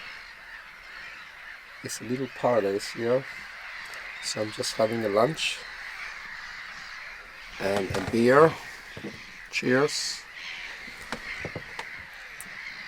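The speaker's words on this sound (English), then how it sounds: "I don't know if you can hear the birds." Birds on Hirsholmene island give harsh, crow-like caws in several short bursts under someone talking outdoors, the calls fairly close and fading between bouts.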